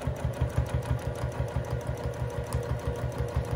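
A sewing machine stitches free motion quilted feathers, its motor running steadily at close range with a fast, even needle pulse and no pauses or voices throughout.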